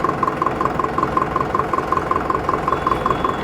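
A Digitrac PP 46i tractor engine idles at roughly 600 to 700 rpm, giving a close, steady rumble with an even, rapid train of knocking pulses and no voices.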